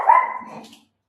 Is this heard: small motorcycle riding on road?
no